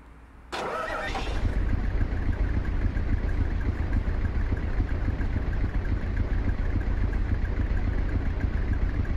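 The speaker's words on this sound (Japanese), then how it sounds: "エンジンかけるよ。" A large diesel dump truck engine in Euro Truck Simulator 2 cranks and starts, then settles into a steady, loud rumbling idle that continues throughout.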